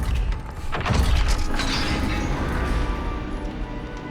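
A Confringo blasting curse bursting against a gate in the Hogwarts Legacy video game, a loud deep boom that swells and rumbles with crashing debris, then fades into a sustained low roar.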